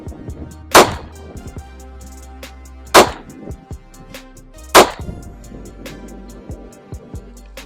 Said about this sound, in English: We're gonna back up to 7 yards and shoot one more group at the middle